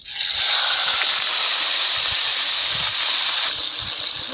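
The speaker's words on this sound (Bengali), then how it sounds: "তেলে এবার আমি লেজাটা দিয়ে দেবো" Rohu fish tail frying in hot mustard oil in a heated kadai, giving a loud, steady hiss and crackle that holds throughout, close up and alone.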